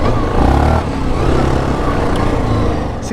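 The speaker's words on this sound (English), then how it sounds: "Engine braking though, man, very nice." A Yamaha Grizzly 700 ATV engine-brakes down a mountain trail descent, its motor droning loud and close with a steady, slightly rough rumble that dips briefly before holding even.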